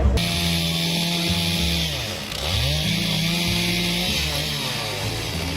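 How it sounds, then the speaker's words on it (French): Chainsaw cutting into wood while carving a horse sculpture at an arts-and-crafts festival, its engine running steadily close by with pitch rising and falling as the cut loads and eases, no voices. "Vous travaillez avec 3 tronçonneuses, 4 tronçonneuses."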